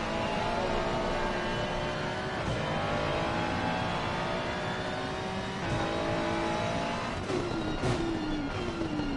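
A race car engine laps Donington Park circuit in Assetto Corsa Competizione, a steady loud whine with revs rising and falling through gear shifts, a couple of sharp downshifts near the end, with no voices.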